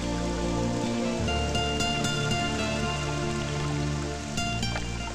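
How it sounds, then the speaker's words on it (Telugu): Steady rain falls continuously in an outdoor setting, a dense even patter that holds throughout, with a low background hum and tonal layers underneath. "వర్షం ఇలాగే పడుతుంటే ఎంత బాగుంటుందో కదా"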